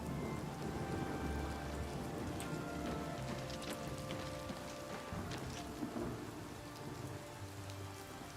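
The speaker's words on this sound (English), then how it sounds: "it seems we have a continuous year all around rainstorm" A continuous rainstorm in the video game Oblivion Remastered, steady and dense rain hissing on surfaces with low thunder rumbles underneath, filling the whole stretch without a break.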